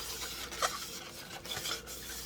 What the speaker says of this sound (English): Just rubbing the inside.